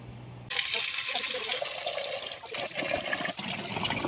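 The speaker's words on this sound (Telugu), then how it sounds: "కరివేపాకుని వాటర్లో వేసి మంచిగా కడుక్కోవాలి" Water splashes and runs steadily as something is rinsed in it, starting abruptly and continuing with a busy, close-up sloshing that eases slightly toward the end.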